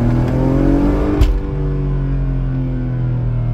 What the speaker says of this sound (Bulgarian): Силно тупване, което е мотора, когато се приземи обратно на място.